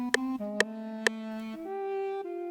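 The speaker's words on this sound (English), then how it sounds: "changing the lead sound to this duduk from" A reedy, sustained duduk melody glides slowly between a few held notes, with three crisp tapping clicks early on.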